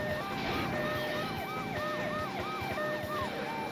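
An ambulance siren wails in the game Driver 2, a fast rising and falling electronic yelp repeating steadily over engine rumble and traffic noise.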